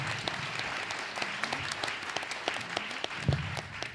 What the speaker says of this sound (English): Can we give them a big loud round of applause?